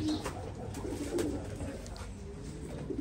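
German highflyer pigeons coo in a low, repeated rolling murmur at close range, several birds overlapping steadily with faint background noise.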